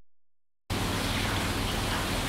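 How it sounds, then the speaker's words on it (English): Steady rain falling at night, a dense, even hiss that starts abruptly after a short silence and continues unbroken, with no other sounds on top. "These recordings were made later that night with rain in the background."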